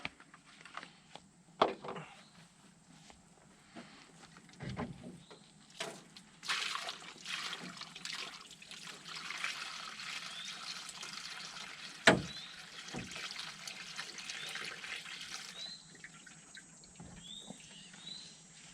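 Water trickles and splashes into a container in uneven bursts, fairly quiet, with a few knocks and bumps along the way.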